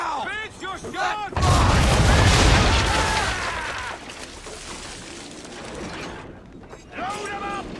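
Ship cannons fire round shot in a naval battle in Assassin's Creed III: a loud booming volley with rumbling debris follows creaking mechanisms, then a tail of wood and rigging noise, with voices shouting commands around it.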